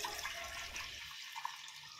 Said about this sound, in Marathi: आता आपण हे तांदूळ आणि उडीद डाळ चांगली 2-3 वेळा धुवून घ्यायची आहे